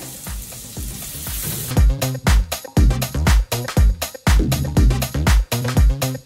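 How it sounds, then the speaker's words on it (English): Finely chopped shallot hits a hot frying pan with a bright hiss, then rhythmic scraping and tossing strokes repeat over the steady sizzle, close and loud. "I'm going to put some fine chopped shallot into the pan."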